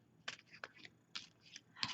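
A deck of large glossy reading cards is shuffled by hand, giving a few short, faint riffling bursts separated by pauses.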